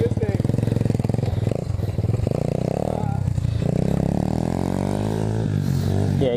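An Apollo 125cc dirt bike engine revs loudly and close up for a wheelie with the clutch dropped, rising and falling in pitch over a rattly idle while people talk over it.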